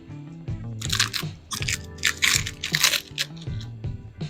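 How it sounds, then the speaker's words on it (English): Plastic wrapping crinkled and peeled off a new motorcycle lens cover for LED turn signals on a Harley Street Glide, with close, irregular crackling bursts and short pauses between them. "Unwrap the plastic."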